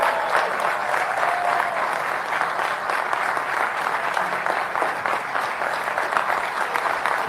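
A crowd at Biden's Morehouse College speech applauds steadily, with a loud, even roar of many hands that holds unbroken for over seven seconds and has no talking.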